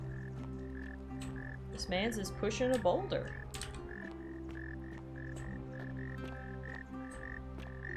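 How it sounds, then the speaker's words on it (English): Frogs croak in a rhythmic, repeating chorus inside the video game The Forgotten City, a steady pattern of croaks running throughout while someone talks over the middle stretch. "I hear frogs"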